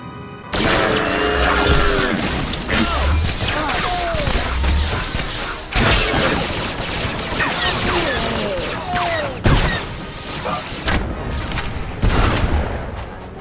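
Blaster fire in the video game Star Wars: The Old Republic sounds as a dense, loud, continuous volley of rapid energy-weapon shots and crashes over battle effects.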